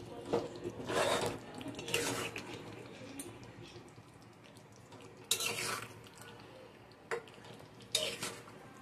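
A metal spoon stirs chicken in a cooking pot for makha-dhaka chicken, giving scraping, clinking strokes in a few bursts with quieter gaps between, close by and moderately loud, with no talking.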